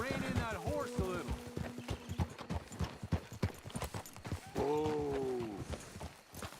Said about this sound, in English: I think you need to rein in that horse a little.